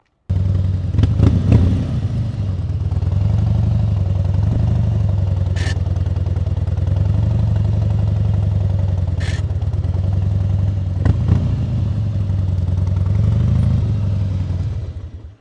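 A motorcycle engine idles and putters at low speed during slow-speed riding practice, with a steady rumble, gentle throttle swells and a few sharp clicks and clanks.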